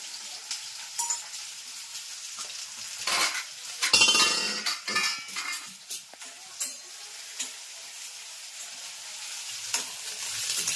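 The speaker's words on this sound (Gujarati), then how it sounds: "અને અહીંયા મગનો વઘાર કરવાનો છે" Mung beans are tempered in hot oil, giving off a few loud sizzling bursts with clinks of a stirring utensil against the pan. The sizzle fades to a quiet, occasional crackle afterward.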